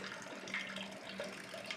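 Water poured and sprinkled over grain during all-grain home brewing of a cream ale, dispersing evenly: a steady, soft splashing hiss of flowing water, continuous and moderately quiet, alone without talking.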